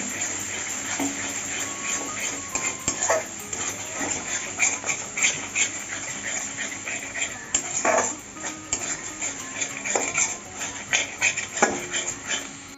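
Spice paste for potol korma being fried and stirred in a pan: an irregular scraping and clattering of a spatula against metal over a constant sizzling background, close and moderately loud.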